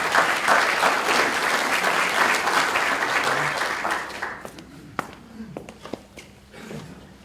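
A conference audience gives sustained applause to welcome a speaker named Jack, loud and full at first, then fading after a few seconds into scattered claps, footsteps and light room noise.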